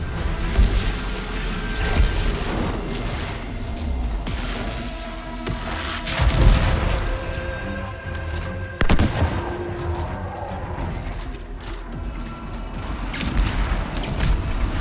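Weapons fire in the Anthem video game, with repeated gunshots and bursts plus mechanical clanks and booms, a busy battle din that continues throughout.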